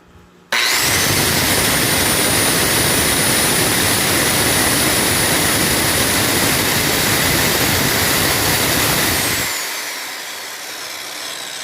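A brand-new circular saw switched on and running freely with no cut, a loud steady high whine rising sharply at start-up and holding for about nine seconds before spinning down, close to the recorder with no talk.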